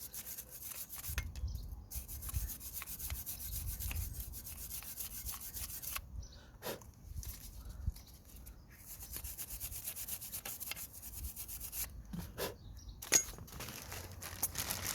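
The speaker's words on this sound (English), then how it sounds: "just gonna clean the area where the caliper is gonna be moving." Steady scrubbing and rubbing while the front brake caliper area on a Toyota Yaris is cleaned during a disc and pad change. The strokes are close and continuous, with brief pauses and a few sharp knocks.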